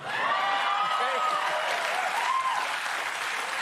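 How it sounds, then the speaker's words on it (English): Studio audience applauding and cheering, a dense steady wash of clapping with some whoops and voices mixed in, loud and sustained throughout. "Y'all cheering out there"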